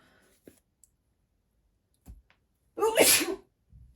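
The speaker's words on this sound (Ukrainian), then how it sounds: "в мене аж в носі кортить, аж чихнути хочу" A single sharp sneeze from a person bursts out after a few faint clicks and small noises, followed by a soft trailing sound.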